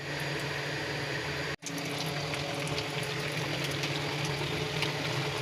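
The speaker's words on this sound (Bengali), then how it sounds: "প্রায় বলক দিয়েছে" Dried fish curry with tomato bubbling in a pot, a steady close simmering hiss and burble that runs continuously, broken by one brief dropout.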